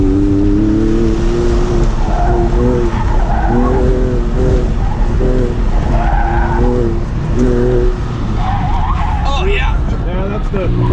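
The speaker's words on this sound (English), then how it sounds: "That's the heavy braking one." An Audi S3 with modified suspension brakes hard at an autocross, tires squealing and skidding in repeated wavering bursts over a loud, constant engine and road roar, up close.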